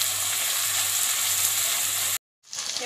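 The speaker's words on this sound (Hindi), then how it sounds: "एबे में सब फ्राई कर देखो दाम प्याज गोल्डन ब्राउन न हो" Onions and spices for rajma masala fry in a pan with a steady, dense sizzle close by, which drops out briefly and then returns, with no voices.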